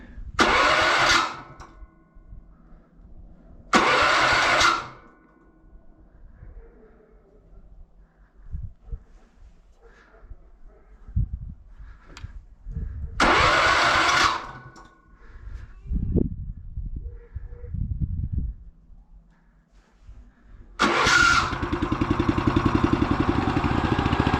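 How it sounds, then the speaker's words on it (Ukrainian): A walk-behind tractor engine left idle for three months being started: several short loud cranking bursts separated by pauses and rattling handling noises, ending in a sustained running engine. "Не заводив мотоблок місяця, мабуть, три. Спробуємо."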